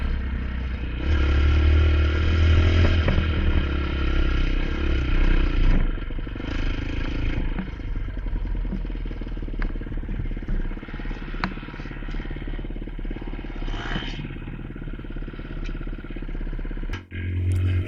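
A dirt bike buzzes along a dirt trail, its engine droning steadily at a distance with clatter and bumps from the rough ground, fading and returning over the ride.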